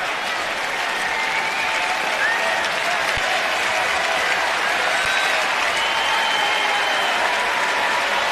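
A big baseball stadium crowd at an MLB game applauds and cheers, a dense, even roar of clapping that holds at steady loudness the whole time, with no individual voices standing out.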